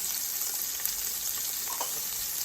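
Chopped onion and celery sizzling as they hit a hot pan for curry chicken, a steady bright crackle with a faint stir partway through.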